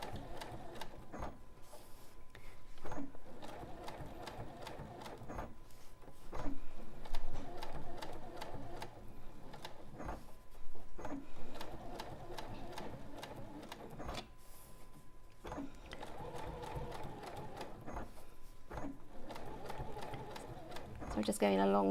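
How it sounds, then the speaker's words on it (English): Sewing machine stitching appliquéd hexagon petals through all the quilt layers, a steady mechanical whir running in bursts with brief pauses, under continuous talk. "And now I'm going to quilt them in through all the layers."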